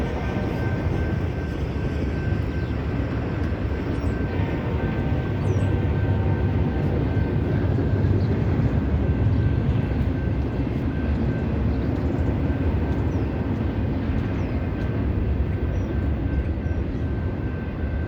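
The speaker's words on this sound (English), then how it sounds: "oh, now there's two trains." Steady, heavy rumbling roar of a train passing close by, continuous and loud throughout with a faint high tone above it.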